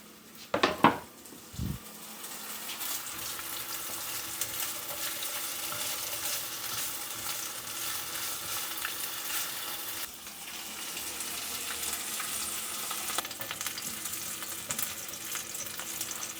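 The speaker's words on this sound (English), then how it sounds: "We can hear the bacon sizzling just a little bit." Bacon and chopped hot dogs sizzle steadily in a frying pan, with a couple of sharp utensil clanks against the pan at the start and a soft, continuous hiss after that.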